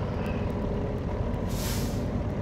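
A truck's air brakes being set, delivering a long, loud hiss of released air that stays steady over a low idling engine rumble, brightening into a sharper burst near the end.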